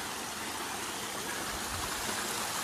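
A mountain stream along a hiking trail rushes in a steady, dense broadband wash that runs unbroken and fairly loud throughout, with no voices.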